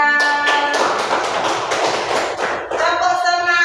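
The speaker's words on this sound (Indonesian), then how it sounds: "tepuk tangan untuk kelompok 3" A class of fifth-grade pupils applauds group 3 in a bright burst of clapping that runs for a few seconds, close and lively, with a sustained musical tone ringing underneath.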